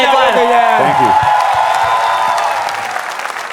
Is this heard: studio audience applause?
yes